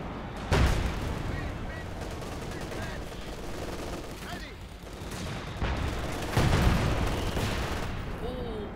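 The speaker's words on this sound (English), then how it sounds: "almost losing the pioneers there to the minefield exploding due to the sheer force of the ISU 152" Heavy gunfire and sharp explosions from a Company of Heroes 2 match, with the big ISU 152 gun firing and a minefield blowing up, landing as loud repeated blasts over constant battle noise and a commentator's voice.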